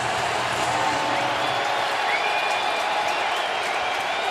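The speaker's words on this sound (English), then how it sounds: "Crowd is into it" A large home crowd in a Cincinnati NFL stadium at a Bengals–Steelers game, giving a dense, sustained roar of cheering and applause that holds at a constant level from start to finish, with no clear voices on top.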